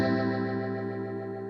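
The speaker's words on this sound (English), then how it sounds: "you can hear the speed of that modulation." A sustained, steady guitar tone through an AS100D pedal swirls with a chorus-style modulation, held evenly and fading slightly toward the end, with no voices.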